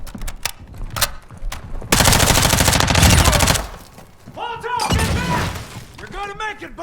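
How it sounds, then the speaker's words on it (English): Gunfire in Call of Duty DMZ, with scattered single shots, then a dense sustained burst of automatic fire lasting over a second, and later whooshing, warbling effects while a voice talks intermittently. "You are taking effective fire"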